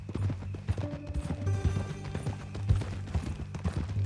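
Horse hooves clip-clop steadily in the Red Dead Redemption 2 video game, a close, rhythmic trot over low ambient tones with a brief whinny-like sound mixed in.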